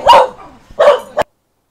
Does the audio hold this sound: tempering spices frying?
no